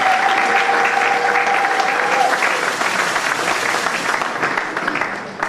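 A church congregation applauds and cheers in a steady, dense wash of clapping that holds at full strength for several seconds and eases off slightly at the end, with a brief sustained tone early on.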